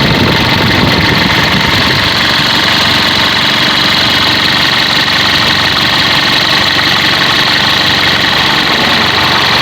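Steady, loud idle of a Nissan Frontier pickup's engine in good running order, a continuous even rumble with a light knocking texture and no voices.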